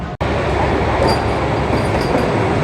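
Vande Bharat Express pulling out of Howrah station, a steady loud rumble of train and platform noise that fills the clip with one short dropout near the start.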